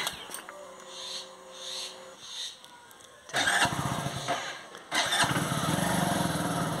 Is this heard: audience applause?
no